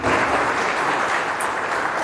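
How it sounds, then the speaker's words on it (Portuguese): A church congregation applauding during a service, dense steady clapping that fills the space without letting up, with no speech. "Aplauda Jesus que ele merece."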